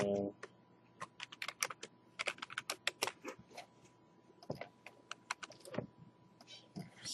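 Steady, close typing on a computer keyboard, a run of crisp key clicks at an uneven pace over several seconds, alone and without voices.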